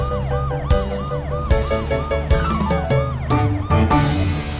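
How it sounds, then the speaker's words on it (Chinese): A cartoon police car siren wails in repeated rising and falling sweeps, loud and close, over a steady background with sharp percussive hits. "超雷达警车雷克，超级汽车出动"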